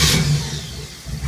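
A 1985 OMC 3.8 liter V6 stern drive marine engine cranks and catches, a loud close burst of starting noise settling into a rough low running rumble.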